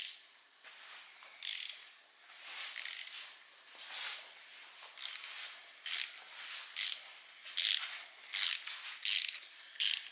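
A ratchet turning 1/4 inch head bolts off a Peerless 2300 transaxle shifter, with bursts of quick clicking that grow sharper and more regular toward the end, close up in a workshop.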